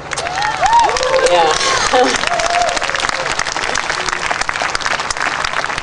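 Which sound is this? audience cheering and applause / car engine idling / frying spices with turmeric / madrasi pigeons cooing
audience cheering and applause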